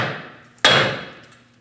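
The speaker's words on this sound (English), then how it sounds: "Using a hammer, we're going to release the upper ball joint from the knuckle." A hammer strikes a steering knuckle on a 2001-2006 Chevrolet Silverado 2500 HD to free the upper ball joint: one sharp, loud metallic blow that rings and decays, after a fading earlier impact, with no talk.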